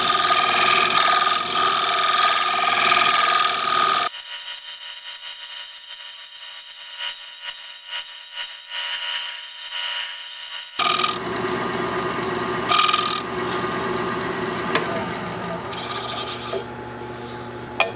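A 1-inch scraper works the inside corner of a wood-lathe turning, making a continuous loud rasping scrape with a steady whining tone. Partway through, the deep rumble drops out for several seconds while the high scraping carries on.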